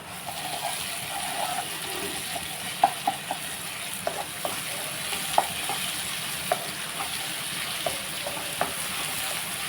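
A pan of curry seasoned with salt and chili powder sizzles steadily up close while a spoon stirs it, leaving scattered sharp clinks and scrapes against the metal; no speech.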